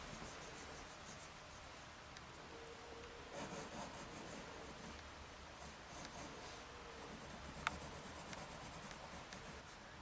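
A pencil or charcoal scratches and rubs steadily across paper while drawing a portrait's eyes, producing faint, continuous close-up strokes with a few sharper ticks.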